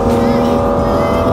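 A BMW E36 M3 Evolution engine revving while the car is driven, heard from inside the car as a loud, steady, tonal drone held for just over a second with no break.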